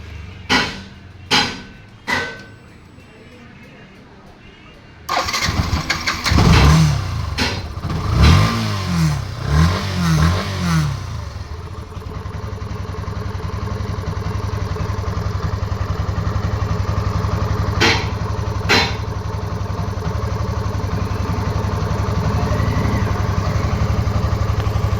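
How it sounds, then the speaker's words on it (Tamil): A fuel-injected motorcycle cranks and fires up, revving briefly before settling into a steady, loud idle that hums on close by, with a few clicks before the start and no talk. "அது எப்படி நான் ஸ்டார்ட் பண்ணி காமிக்கிறேன்."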